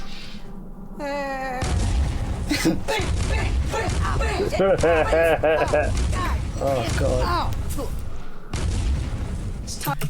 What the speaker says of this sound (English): Then you get all those explosions